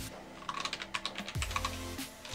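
Fingers tap out a folder name on a computer keyboard, a quick run of close, crisp key clicks with a few brief pauses between bursts.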